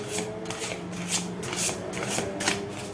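An oracle card deck is shuffled and a card drawn, with soft, rapid papery riffles and rubbing strokes repeating close by in a quiet room, without speech.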